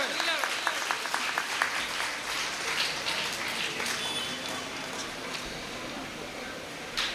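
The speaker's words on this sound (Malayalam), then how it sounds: "കയ്യടി കൊടുക്കുക എല്ലാവരും." Scattered clapping from a crowd at a residents' association Onam celebration, honouring a tug-of-war team; a few sharp claps open, then a softer patter runs on beneath a voice.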